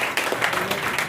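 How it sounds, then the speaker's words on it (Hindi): Brief burst of audience clapping at a community association gathering, close and fairly loud, with a faint voice mixed in as the applause carries through the short moment. "उसके लिए ताली बजा दो"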